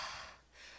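A person mimics Darth Vader's mechanical mask breathing with one rasping, breathy inhale then exhale, close and fairly quiet, with no other sound.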